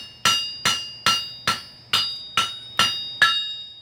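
Eight even hammer strikes on a dampened anvil held snug in its stand ring out in a steady rhythm, each with a bright clang that fades fairly quickly.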